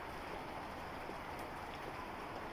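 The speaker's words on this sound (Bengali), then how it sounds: "না, আবার আসতেছে বৃষ্টি" Steady rain falls without a break, a soft, even wash of patter that stays constant and fairly faint throughout, with no voices.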